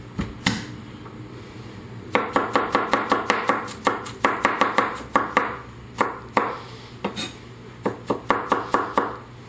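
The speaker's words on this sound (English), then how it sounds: "3 or 4 garlic cloves. If you like garlic, I would go with the 4." Knife chopping garlic cloves on a board in a home kitchen, a close, brisk series of sharp rhythmic taps in quick bursts with brief pauses, no voices.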